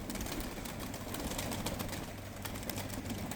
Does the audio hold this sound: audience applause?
no